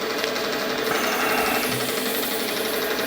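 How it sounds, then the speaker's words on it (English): A wood lathe turns slowly while a recycled fencepost piece is sanded with 800 and 1200 grit wet and dry paper, giving a steady mechanical whirring hum with faint rubbing and no talk. "Slow the lathe down."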